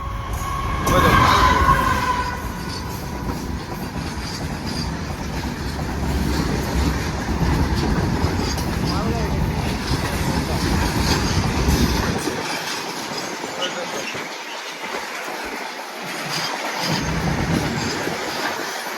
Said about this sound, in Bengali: ওখানে মনে হয় মালগাড়ি আইতেছে